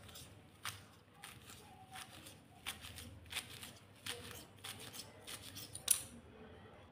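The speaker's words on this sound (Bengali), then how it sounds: "তো আমি এখন ছোট ছোট করে" Soft pumpkin leaves being cut into small pieces, a quiet series of close, crisp snips repeating at an uneven pace, with no voices.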